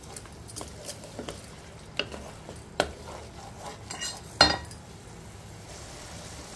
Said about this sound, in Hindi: दही का कच्चापन जाने तक इसको भून लेंगे दही से